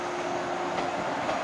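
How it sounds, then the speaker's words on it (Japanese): A train pulls into a station platform, a steady broad rumble and rolling noise of the cars, close and continuous, with no one speaking. "列車到着いたします。"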